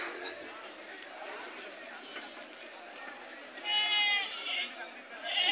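A one-year-old sheep bleats once, fairly close, over a background of outdoor murmur and movement at a goat and sheep market.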